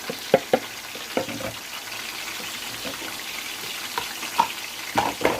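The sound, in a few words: food frying in oil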